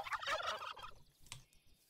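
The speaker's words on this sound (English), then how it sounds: "Turkeys." Turkeys gobble in a modded Minecraft game, a dense burst of warbling calls for about a second, then one shorter gobble follows after a pause.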